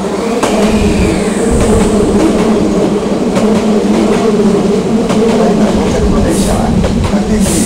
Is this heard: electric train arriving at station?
yes